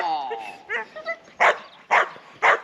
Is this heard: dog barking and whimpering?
yes